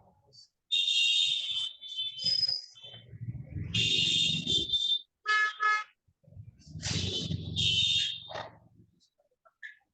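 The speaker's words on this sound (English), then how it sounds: "I think there's some horn and car beeping sound" Car horns and beeping alarm tones carried over a call, with repeated high honks in long bursts, broken and overlapping with a low voice speaking underneath.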